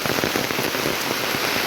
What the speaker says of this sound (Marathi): अक्षर मुसळधार पाऊस पडतो आहे